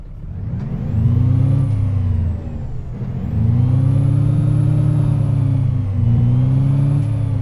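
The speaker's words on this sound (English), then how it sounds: "Let's give her a rev." An Isuzu Erga Mio bus engine in the OMSI 2 video game revs up twice, its low roar rising and falling in two strong surges with a short dip between them.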